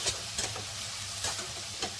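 Spice paste (masala) being stirred and fried in a pan for chicken curry: a steady close sizzle with several scraping stirs of the spoon at intervals, no voices.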